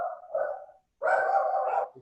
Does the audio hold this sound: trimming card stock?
no